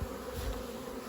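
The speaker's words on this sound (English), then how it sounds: "any beekeepers will know what that sound is the sound of a swarm" A honeybee swarm buzzes loudly and steadily outdoors near a garden garage, a dense continuous hum of many wings with no voices.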